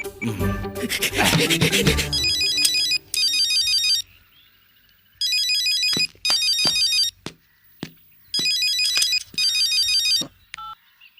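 A phone ringtone in a comedic film scene chirps in repeated electronic bursts with short silent gaps between them. A brief rustling, rubbing noise comes before it.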